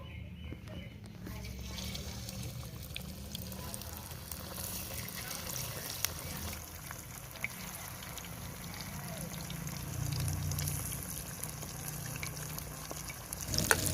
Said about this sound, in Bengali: এই ললিপপটা এখন তেলের উপরে দিয়ে ভেজে নেবো